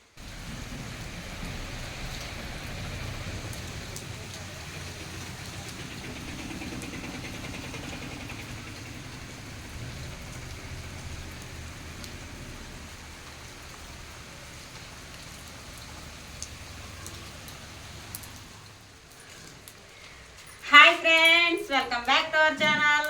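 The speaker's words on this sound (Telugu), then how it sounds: "ఏం చేయించక వర్షం పడిపోతుంది" Steady rain patters softly for a long stretch, a low, even wash of drops; near the end a voice briefly breaks in.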